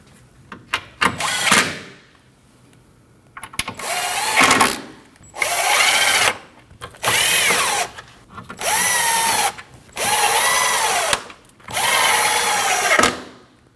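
A power tool drives bumper bolts on a 2013-2019 Ford Escape 1.5L. Several loud, close whirring bursts come one after another, each lasting about a second, with short pauses between them.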